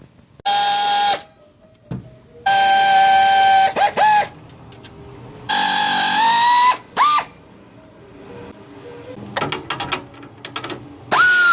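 Bolts holding the fan shroud come out with a ratchet, several bursts of rapid mechanical clicking and whirring separated by pauses, close and fairly loud, with lighter tool clinks between.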